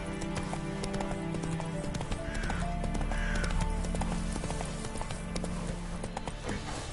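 Roach, a horse in The Witcher 3, gallops in a steady, close clip-clop of hooves with an occasional whinny, heard over a continuous game background tone.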